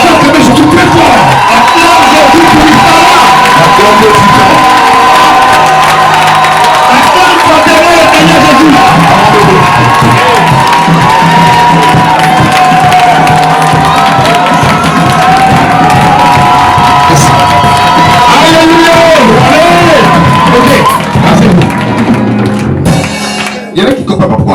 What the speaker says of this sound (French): on va acclamer Jésus très fort